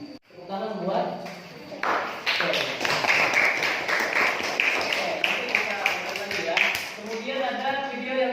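A seventh-grade social studies class claps together, a few seconds of dense, even applause rising after brief talk and fading back into speech near the end.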